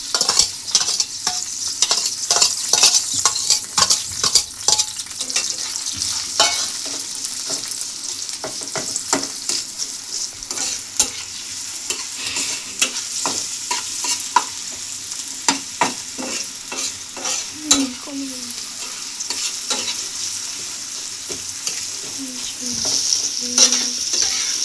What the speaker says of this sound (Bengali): পেঁয়াজ আর মরিচ একটু তেলে ভেজে নিলাম।